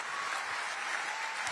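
An audience breaks into steady applause during a political speech, dense clapping that holds at an even level throughout.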